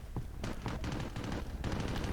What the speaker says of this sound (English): Hear the gunfire? Someone's having a bit of a battle somewhere.